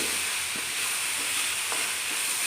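A jackfruit mixture sautéed in ghee gives a steady, close sizzle with a broad hiss, with a few soft stirring scrapes on top and no talking.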